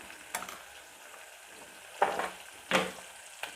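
Onions sauté in a pan for sambar, with a quiet background sizzle broken by three or four short scraping knocks of a spoon stirring them.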